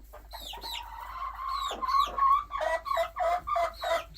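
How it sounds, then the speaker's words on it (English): Backyard hen and her three little chicks clucking and peeping close by, a run of short chirps and clucks that grows into a steady series of rhythmic calls, with no talking. "There's 3 little chicks in here, and this is one of them."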